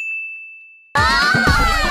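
A bright notification bell dings once, its tone ringing out and fading, then is abruptly cut by a loud burst of dense, clangy sound effects that fill the rest of the moment.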